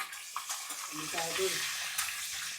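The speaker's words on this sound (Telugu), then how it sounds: "ఎగ్స్ ముందు వేపేసుకోవాలండి" Eggs seasoned with salt and turmeric fry in hot oil with a soft steady sizzle. Light spoon and pan scrapes come through, fairly quiet and close, with no voices.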